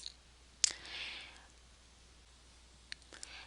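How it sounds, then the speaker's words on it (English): A computer mouse clicks once sharply up close, followed after a pause by two fainter clicks, against quiet room tone. "you're going to click on the More Options button at the bottom"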